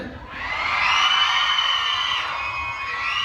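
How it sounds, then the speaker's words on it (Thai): A large crowd screams and shrieks loudly and continuously at a The Face Shop store opening in Siam, Bangkok, high-pitched and sustained, filling the space without pause. "ได้ยินเสียงกรี๊ดดังขนาดนี้"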